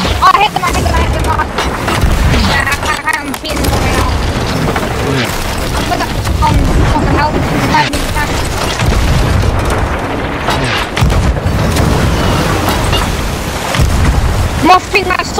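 Cannon fire in the pirate video game Sea of Thieves, with repeated heavy booms and splashing blasts in a dense, loud battle mix while players talk over it.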